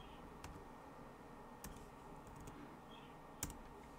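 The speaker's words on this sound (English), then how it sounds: "We're going to type it in." A few sparse keyboard clicks are heard while a command is typed on a computer, with soft isolated taps spaced over faint room noise. There is no speech.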